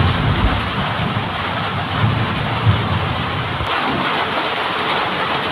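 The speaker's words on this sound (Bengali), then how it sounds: "হালকা হালকা শিল পড়তেছে। এই বৃষ্টি একবারে বর্ষা নিয়ে আসবে আমাদের এদিকে।" Heavy pre-monsoon rain with light hail falling makes a loud, steady, unbroken roar that fills the whole stretch, with no voices.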